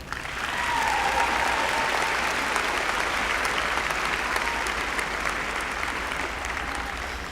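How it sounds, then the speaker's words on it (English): Sustained applause from a large crowd at a college commencement ceremony, steady and dense for several seconds, loud and continuous without speech. "Graduates, please join me in a big round of applause"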